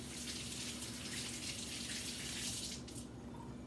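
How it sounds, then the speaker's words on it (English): Tap water runs steadily into a sink while fresh tomatoes are rinsed under it. The hiss of the stream is constant and moderately close, and no one speaks. "Let me just wash them really fast."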